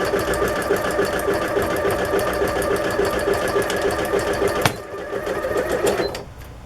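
Sewing machine stitching through card journal pages, a steady rapid mechanical whir with a fast even needle rhythm running close and loud, then stopping briefly near the end before a quieter hum.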